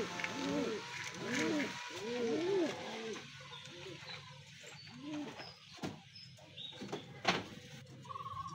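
Several breeder pigeons coo in repeated rising-falling bursts in the first half, then fainter later, with scattered knocks and handling noise in a loft.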